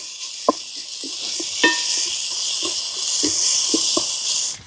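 Ginger garlic paste frying in hot oil for a cashew pulao gives a steady, loud sizzling hiss, broken by scattered sharp pops and crackles of spattering paste.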